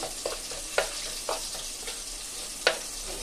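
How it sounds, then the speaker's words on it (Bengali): Semolina and gram flour being mixed in a bowl: a handful of sharp scraping strikes at an uneven rhythm, close and moderately loud, with quiet gaps between them and no talking. "তো সুজি আর বেসনটাকে আমি একটু মিশিয়ে নিব।"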